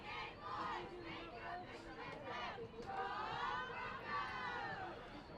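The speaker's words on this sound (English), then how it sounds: "girls team with their cheer at the end" At the end of an Oak Stick Classic game, a girls' team lets out a cheer amid crowd chatter and excited voices, with a moderate babble that swells near the middle.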